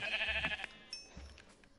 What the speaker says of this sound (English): I'm gonna slaughter some sheep.